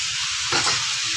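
Vegetables sizzle in a pan for mung dal with vegetables, with a steady frying hiss and a short louder scrape and stir in the middle as they are turned over.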